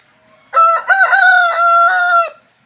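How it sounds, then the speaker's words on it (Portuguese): A rooster crows loudly and close on a peach palm agroforestry farm at dawn, one long drawn-out cock-a-doodle-doo in several tonal segments, with near silence before and after. "Esse galo. Não vou encher o saco dele não, porque ele tá querendo cantar mais."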